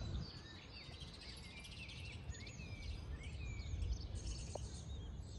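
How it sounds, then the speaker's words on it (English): Birdsong in an abbey churchyard, with several birds chirping and trilling in overlapping phrases at moderate distance over a steady low rumble of background ambience. "the bird song today is absolutely glorious"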